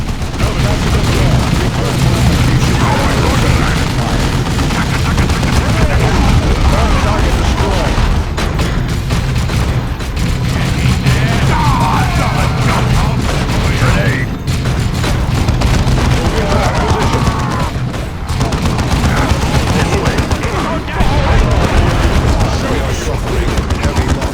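Orc gunfire in the Warhammer 40k: Dawn of War 2 campaign, a dense, continuous barrage of shots and blasts with battle noise throughout, loud and sustained, with voices talking over it.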